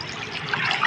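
Water in the Minecraft video game, a brief soft trickling, flowing sound with faint bubbly splashes near the end, no speech.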